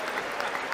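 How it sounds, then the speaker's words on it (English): Applause fills a State of the Union address: dense, steady clapping from a large audience, a brief unbroken wash of hands with no other sounds standing out. "you can tell it's a good State of the Union because of how much clapping there's been"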